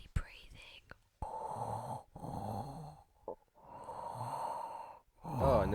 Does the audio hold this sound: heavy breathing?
yes